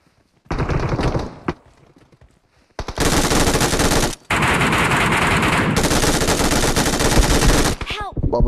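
Video game gunfire with sustained bursts of rapid automatic shots, loud and close, with a short opening burst, a pause, then long continuous volleys.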